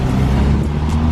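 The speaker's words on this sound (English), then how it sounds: "So here you'll see a bunch of scooters or motorbikes" Busy Bangkok street traffic with scooters and motorbikes, a steady low engine rumble and road noise from several passing vehicles, continuous and fairly close, with no talking.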